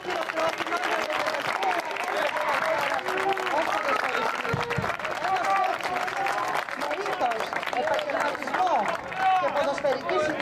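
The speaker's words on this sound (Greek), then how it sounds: "Ένα μεγάλο χειροκρότημα για την" A crowd at a football club's award presentation and celebration breaks into sustained applause, a thick wash of many hands clapping together, with cheers and chatter mixed through it.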